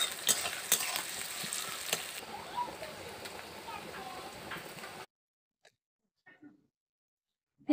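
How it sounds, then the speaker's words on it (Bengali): Chopped onions with cumin seeds sizzle in hot oil in a pan, a steady crackling fry with a few stirring clatters, then it cuts to near silence with only faint clicks. "পেঁয়াজটা আমি ভালো করে ভেজে নেব"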